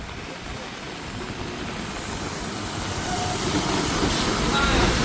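A Maharashtra state transport bus drives through rain, its engine and road noise forming a steady rumble that slowly swells louder as it nears, alongside a broad wash of rain.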